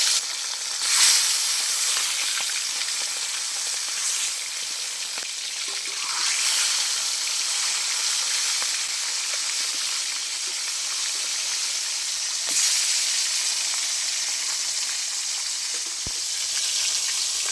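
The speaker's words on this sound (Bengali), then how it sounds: "এবার দিয়ে দেবো মাছগুলো। আমার তেলটা ভালোভাবে গরম হয়ে গেছে।" Rohu fish fry in hot white oil in a wok, giving a steady, close sizzle and crackle that runs the whole time, with a few brief stirring scrapes and no talk.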